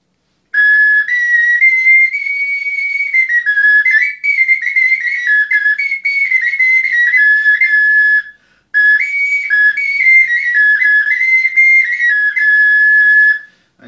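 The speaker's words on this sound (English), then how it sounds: "this is our Russian traditional clay whistle, svistulka it's called, and it has four notes." A traditional Russian clay whistle (svistulka) with four notes plays a loud, bright, sustained tune, shifting between a few pitches in long phrases with a brief pause partway through; no talking.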